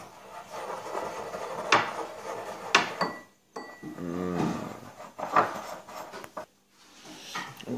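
Fingers rub oil around the bottom of a dish for microwave bacon and eggs, giving close, intermittent squeaky rubbing and light clinks of the dish with short silent gaps between strokes.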